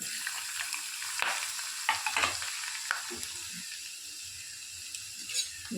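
Ginger and garlic, added after cinnamon and cloves, sauté in a hot pan with a steady sizzle, broken by a few scraping stirs of a spatula; no talking.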